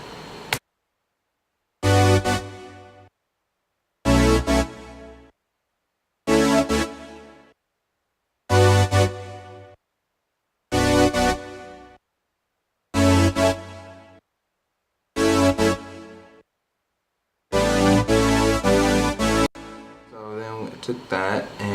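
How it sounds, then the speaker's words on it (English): Bright, punchy synth stabs from a music track, eight short chord hits in a steady spaced rhythm, each cutting off to silence, followed by a longer sustained stab and a different, busier one at the end. "this is the synth stab, the first one, the main one."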